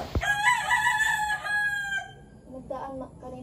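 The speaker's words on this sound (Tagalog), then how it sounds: "Tilaok ng manok." A rooster crows once, loud and near, with a long drawn-out call held for about two seconds after a sharp knock, followed by softer clucking or voices in a quiet morning setting.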